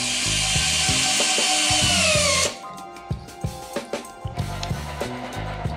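A Bosch battery drill bores into wood, a loud close whine for about two and a half seconds that then drops to a series of rhythmic knocks and clunks.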